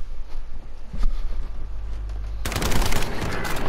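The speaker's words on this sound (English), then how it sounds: "They're shooting through the window." Gunfire in a first-person shooter game, a low rumbling burst followed by a loud, dense rattle of rapid shots that fills the second half, close and harsh.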